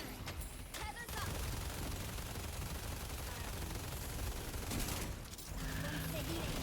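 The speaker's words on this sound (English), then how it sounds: "Don't stop firing." Sustained automatic gunfire in the shooter game Deadlock, a dense continuous rattle of rapid shots that runs almost unbroken, dipping briefly before resuming.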